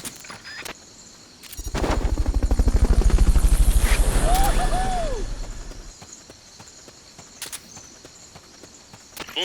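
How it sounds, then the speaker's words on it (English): Fulton recovery helicopter in the video game Metal Gear Solid Peace Walker, a rotor chop rising out of quiet, holding loud for several seconds with a brief whistling tone, then dropping off, framed by sharp clicks. "Fulton recovery subject confirmed onboard helicopter."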